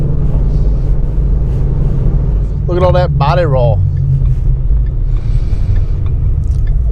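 A Ford S197 Mustang on skinny drag tires with no front sway bar rumbles along at road speed, a steady low engine and road drone filling the cabin while someone speaks briefly over it.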